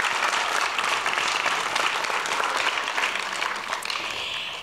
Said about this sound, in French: Maintenant, on peut les applaudir.